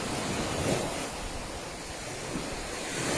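Sea waves at a Sardinian seaside at sunset, a steady broad wash of surf with some wind noise on the microphone, continuous and fairly loud with no voices.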